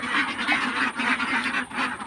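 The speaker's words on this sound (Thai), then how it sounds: "เป็ดสาวร้อยตัวนะครับ" A flock of about a hundred young laying ducks quacks continuously nearby, overlapping nasal calls in a busy, rhythmic chorus.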